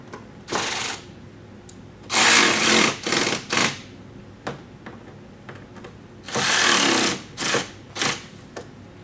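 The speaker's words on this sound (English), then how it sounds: "Now we can fully tighten down both of our screws." A power driver tightens the screws holding a mud flap on a 2022-2024 BMW X3 M, giving several short, close whirring bursts separated by pauses and small clicks, with no speech.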